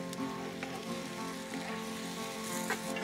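Chorizo and salty pancetta sizzle steadily in a hot pan, a continuous close crackle and hiss with a few sharper pops and no voices.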